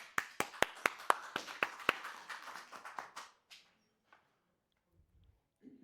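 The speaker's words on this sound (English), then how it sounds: "Give Angie a round of applause." A small audience at a sales Ignite session clapping for Angie: a handful of distinct, fairly close claps in quick succession that thin out and die away within a few seconds.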